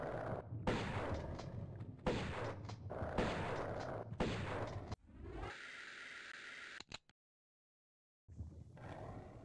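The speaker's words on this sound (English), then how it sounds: "You must be firing at me." Heavy enemy gunfire in Tomb Raider I Remastered arrives in loud, roaring bursts of shots, then a steadier droning tone, a sudden dead silence, and renewed loud firing at the end.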